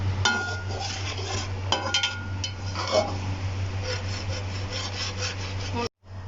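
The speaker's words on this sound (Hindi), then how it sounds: "हल्की आंच पे सूजी भून रही है" Semolina roasting in a pan over a low flame, with continuous soft scraping and stirring, occasional light metallic clinks of utensil against pan, and a steady low hum underneath, close and moderate in level.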